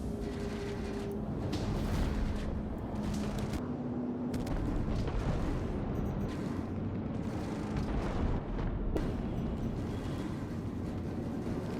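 Laser cannons firing in a space combat video game during a ship dogfight, a dense, loud, continuous barrage of blasts and rumbling over steady game music, with no talking.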